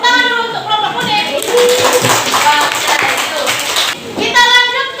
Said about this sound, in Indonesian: Tepuk tangan dulu untuk kelompok kuning.